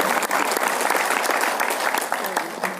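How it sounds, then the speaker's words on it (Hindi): A live audience claps loudly and steadily, dense overlapping hand claps filling the room with no pauses, while a few voices murmur faintly underneath. "ताली बजानी हो तो जोर से बजाए"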